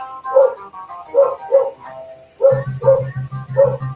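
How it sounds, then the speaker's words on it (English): A dog barks in short, sharp bursts, several yips and barks in an uneven rhythm, with a steady low electrical hum joining partway through. "Oh, my dog's barking."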